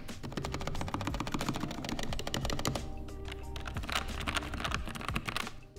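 Fingers type steadily on a Logitech MX Mechanical keyboard with low-profile red switches, making rapid, dense, muted clacks close up that continue without pause and with no talking.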